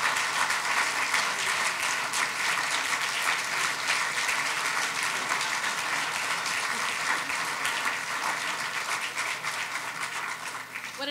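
A large inauguration audience applauds new county commissioners, sustained loud clapping from a hall full of people that holds steady and fades slightly at the close.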